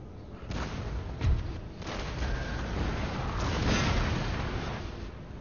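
An artillery battery fires in the battle game Napoleon Total War: several deep, muffled booms land at irregular intervals over a continuous rumbling din of battle.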